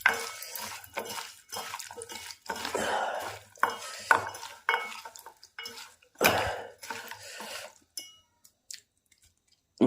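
Mutton soup ingredients mixed in a pot before pressure cooking, with repeated scraping and clanking of a metal spoon against the cookware in irregular strokes, close and fairly loud, pausing briefly near the end.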